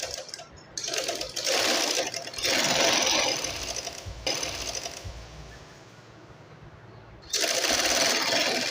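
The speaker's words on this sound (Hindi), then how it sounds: "अब मैं यहाँ से सिलाई लूँगी ऊपर की तरफ" A sewing machine stitches a shalwar leg seam in close, loud whirring runs broken by brief pauses, with faint background sounds between bursts.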